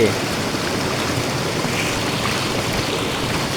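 Continuous roar of a waterfall near Kondeshwar, Badlapur, broad and rushing, fairly loud and steady with no pauses.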